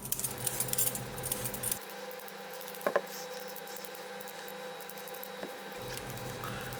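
Russet potatoes being peeled in a kitchen, with soft scraping and rustling strokes, a couple of sharper clicks and taps, fairly faint and close with no talking.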